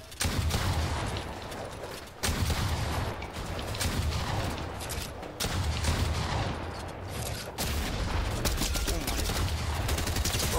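Rapid bursts of gunfire from a player's weapon in Fortnite, loud and continuous across the whole stretch with brief dips between volleys, dense crackling shots dominating throughout.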